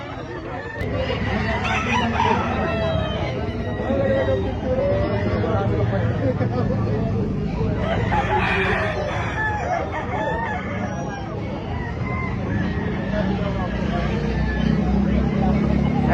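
A fighting rooster crows amid a busy crowd at a gamecock sale in Lipa, Batangas, with steady chatter and babble from people around it throughout.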